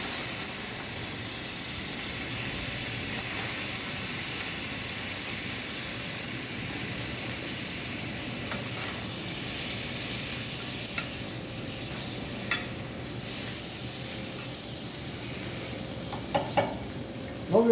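Butter hits caramelized castor sugar in a hot pan for a peach flambé, giving a steady close sizzle and hiss that runs throughout, with a few sharp clinks near the end.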